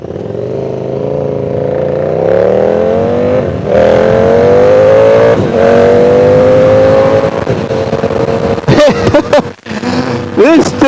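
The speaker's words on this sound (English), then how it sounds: "this thing backfires like you would not believe" A loud KTM 1290 Super Duke motorcycle engine revs and drones with rising pitch, followed by several sharp popping backfires near the end.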